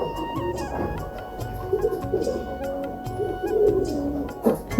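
Pigeons in a poultry farm coo in soft, low repeated phrases, several overlapping at close range, with scattered clicks and rustling of birds moving around.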